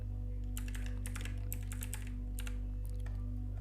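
A quick run of key clicks on a computer keyboard enters a search in the Windows search bar, sharp and close over a steady low electrical hum, with no voice.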